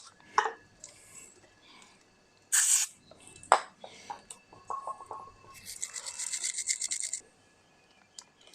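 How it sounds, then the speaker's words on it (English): Contact cleaner sprays in short hissing bursts onto a Kawasaki ZZR250 motorcycle connector, then a brass wire brush scrubs it with a rapid, close, scratchy rhythm, all without talk. "Contact cleaner, brass wire brush, clean the connector."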